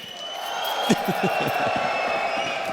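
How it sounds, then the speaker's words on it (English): Spectators at a Counter-Strike esports match between FaZe and sAw at PGL Cluj-Napoca 2025 cheer as a steady crowd roar, with a caster talking over it. "People cheering for the chaos."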